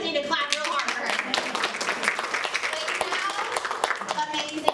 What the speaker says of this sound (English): So you guys need to clap real hard for her.